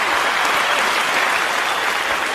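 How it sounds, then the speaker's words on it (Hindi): Dense, steady applause fills the room to welcome a guest at a podcast recording, loud and continuous with no pauses. "तो आइए तालियों की पुरजोर गड़गड़ाहट के साथ अभिनंदन और स्वागत करते हैं हमारे आज के मेहमान एकता अग्रवाल का।"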